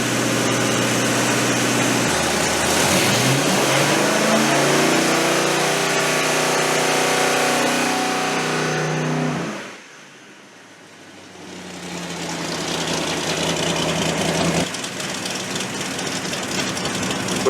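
A Ford 460 V8 with Trick Flow parts from a 1955 Ford F100 runs loud and steady on an engine dyno at about 2,000 RPM. The drone holds constant, dips briefly, then resumes at full level.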